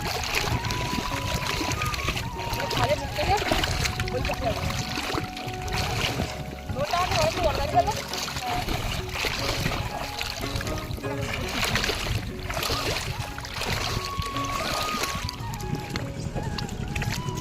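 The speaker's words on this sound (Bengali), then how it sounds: "দেখো একটা বোট আসছে, যাওয়ার বোট" A boat passing along a river in the Sundarbans mangrove area while crab-catching lines are set, its steady engine drone and water wash continuous and fairly loud, with voices talking over it.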